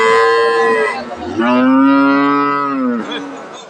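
Holstein Friesian cows at a cattle market moo loudly and close by, a couple of long drawn-out bellowing calls that rise and fall one after another over a few seconds, with no talk.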